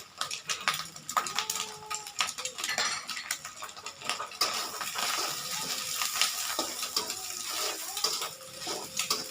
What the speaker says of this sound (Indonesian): Diaduk terus.